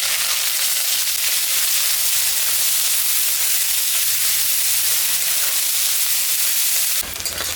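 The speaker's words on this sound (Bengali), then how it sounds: "পেঁয়াজটা দিয়ে দিলাম।" Onion frying in oil in a pan with cumin, dried chillies and spices for a fig and shrimp curry, giving a steady loud broadband sizzle that runs continuously, cut off abruptly near the end.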